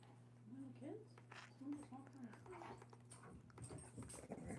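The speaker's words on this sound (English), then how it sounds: "Hey, dogs are fighting." Outdoor dogs fight in the distance, heard as faint rising yelps and whines in short bursts over a low steady hum, with scattered knocks and rustles.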